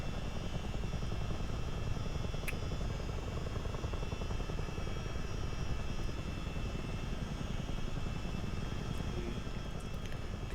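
A CH-47D Chinook tandem-rotor helicopter in Microsoft Flight Simulator flies with a constant low rotor drone and engine whine, steady and moderately quiet throughout with no talking.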